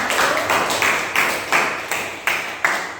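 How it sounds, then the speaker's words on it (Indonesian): An audience applauds group 1 in a classroom, a steady wash of many hands clapping with periodic louder swells, moderately close and without talk. "Ya, tepuk tangan kepada kelompok 1."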